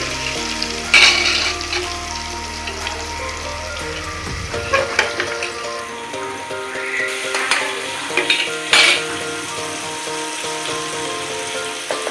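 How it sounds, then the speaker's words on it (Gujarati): Tomatoes with turmeric and asafoetida fry in oil, giving a loud, steady sizzle broken by scraping stirs and clattering utensil knocks, with a low hum fading early on. "ટમેટા અને હળદર ને હિંગ નાખીને તેલ"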